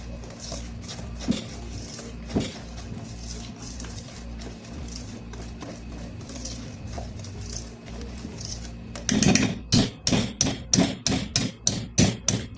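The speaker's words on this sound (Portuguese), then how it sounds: "E aí, vou misturar" Honey cake batter being stirred after a spoonful of baking powder is added, at first a soft steady scraping and tapping, then from about nine seconds a run of sharp, regular knocks of a utensil against the bowl, close and loud.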